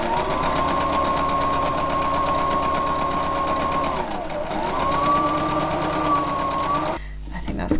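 A sewing machine stitches steadily around the edge of a fabric envelope for a junk journal cover, its motor whirring loud and continuous with a short dip midway before resuming, then stopping near the end.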